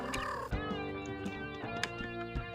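A pet cat named Gizmo meows inside a video game, the call sitting over a steady bed of game music and sound effects with no talking.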